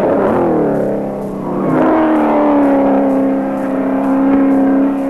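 A race car at the 1983 Bathurst 1000 Hardies Heroes shootout revs hard through a corner and up the mountain, its engine note dipping, then climbing and holding high, loud and close.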